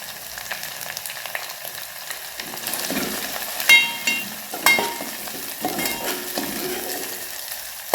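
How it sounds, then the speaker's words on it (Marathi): Green chilli and garlic thecha fries in hot oil with a pinch of turmeric, giving a continuous close sizzle. A few sharp metal clinks and scrapes from a stirring spoon against the pan cut through the hiss. "ठेचाला छानपैकी तेलामध्ये भाजून घ्यायचे"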